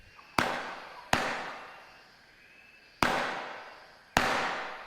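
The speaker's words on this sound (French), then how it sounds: "C'était des coups de feu, Tandor." Four sharp gunshots ring out in a French-dubbed cartoon jungle scene, each a loud crack with a long echoing decay, spaced irregularly with no voices between them.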